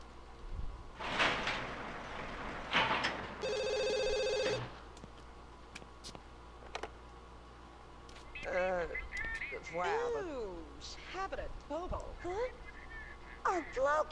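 A telephone rings in the video game The Sims 2, a single bright electronic ring burst that lasts about a second, followed by game chatter and brief speech-like Simlish voices.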